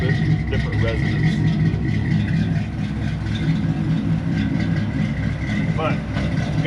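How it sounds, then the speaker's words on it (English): A car with a chambered Flowmaster-style single-pipe stainless exhaust idles with a low, resonant rumble close by, holding steady throughout, while someone talks over it. "Definitely can tell it has a chambered Flowmaster style exhaust, but you can also tell it's single pipe."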